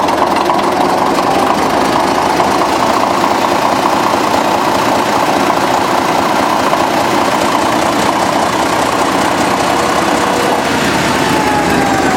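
An 800 kW Waukesha 12-cylinder diesel generator engine idles loud and close with a steady heavy rumble, running rough and low as it nearly stalls, with no talk over it.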